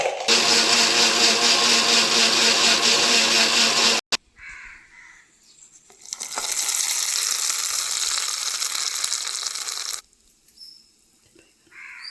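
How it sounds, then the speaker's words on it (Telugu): A mixer grinder grinds tamarind, coconut pieces and salt in two loud bursts of whirring, separated by a short pause with faint background noise and crow caws, no talking. "ఇక మనం మిక్సీ పెట్టేసుకొని తిరమాగ పెట్టుకున్నాం"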